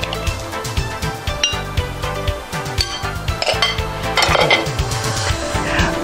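Squid salad is spooned out onto a serving dish with dense, rapid clinks and scrapes of a utensil against the plate, close and continuous throughout, with no voices.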